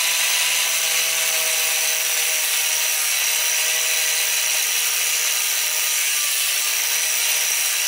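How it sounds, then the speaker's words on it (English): An angle grinder works over a first weld bead on steel, giving a loud, steady, high-pitched grinding hiss that holds constant throughout with no talking. "I'm gonna hit this with a grinder real quick and see what it actually looks like."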